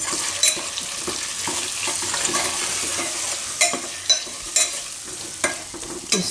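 A spiced eggplant and potato curry with salt, roasted cumin powder and red chili stirred in a pan: soft scraping and sizzling with several sharp spoon clinks toward the end.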